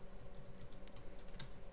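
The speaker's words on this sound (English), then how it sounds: "So we do that by typing public display." Java code is typed on a computer keyboard: a steady run of quiet, close key clicks in an irregular rhythm, heard alone with no talk.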